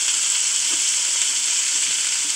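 Onions sizzle and fry steadily in a very hot pan while being stirred, a continuous close hiss with faint scraping and no voices, as they begin to brown for chicken and couscous.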